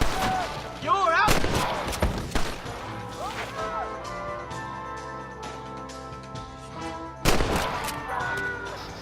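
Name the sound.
gunfire in the video game Red Dead Redemption 2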